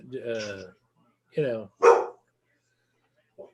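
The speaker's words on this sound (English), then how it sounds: "Who you barking at now?" A dog gives a few close, sharp barks with pauses between them, followed by a faint short yip, with no talking.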